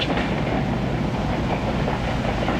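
Heavy rumbling of freight cars rolling along rails in a rail yard, a continuous loud low roar with faint rhythmic clatter and no voices.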